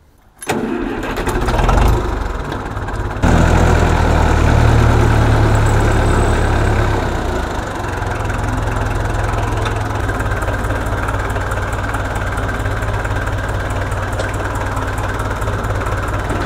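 A tractor engine cranks briefly, catches and settles into a loud, steady, rumbling idle that runs on close by with no talk.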